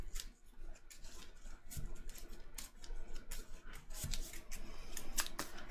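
A stack of cards for a DC deck-building game being shuffled, crisp rapid riffles and slaps in repeated bursts, close and fairly quiet, with no talking.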